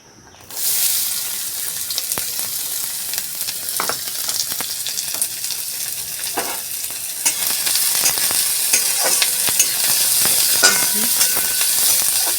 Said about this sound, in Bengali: পেঁয়াজটা লঙ্কাটা ভালো করে একটু ভেজে নেব